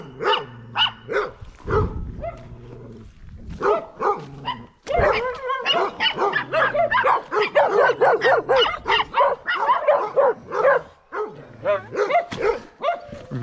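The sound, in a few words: small dog barking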